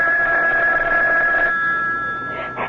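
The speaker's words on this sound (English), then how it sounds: "Oh, that's the phone, Parker." An old telephone bell rings in a CBS Mystery Theater radio drama, a loud, close, steady trill that fades away, followed by a short second ring near the end.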